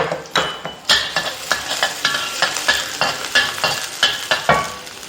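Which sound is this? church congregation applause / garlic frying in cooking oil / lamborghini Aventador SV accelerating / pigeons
garlic frying in cooking oil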